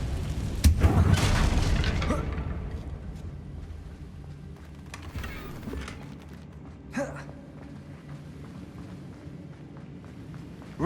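A Confringo blast spell explodes in the video game Hogwarts Legacy, a loud booming burst up front that decays into a rumbling tail, followed by quieter thuds and a short sharp crack later.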